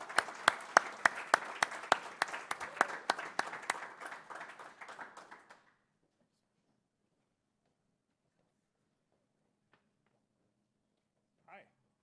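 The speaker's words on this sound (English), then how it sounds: "let's give him a round of applause" An audience at an IT think tank meet-up claps for a speaker, dense applause that lasts about five seconds and then stops dead, leaving near silence with a faint voice after.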